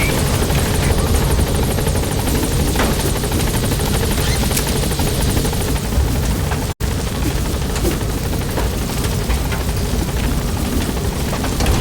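Pequod helicopter from Metal Gear Solid 5 The Phantom Pain arriving at a landing zone, a loud continuous rotor roar with dense broadband noise that fills the whole stretch, broken only by one brief dropout, with no talking.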